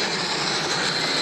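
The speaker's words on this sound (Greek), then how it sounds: "Είναι το σημείο που απογειώνονται και προσγειώνονται τα αεροσκάφη" An aircraft comes in to land beside the Chalikiopoulos lagoon on Corfu, its engines a loud, broad, steady roar lasting the whole moment.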